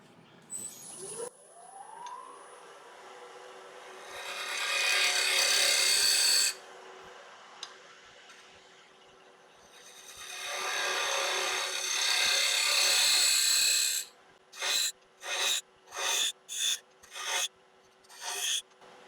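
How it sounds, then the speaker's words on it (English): A small round nose scraper cuts into wood spinning on a lathe, giving two long, rasping passes with a quieter gap between them, then a quick run of short, rhythmic scraping strokes. "I'm just going to try a little round nose scraper."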